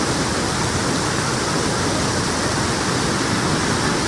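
A loud, steady roar of water rushing across the path to Hidlumane Falls pours without pause, a dense wall of sound like a waterfall close by.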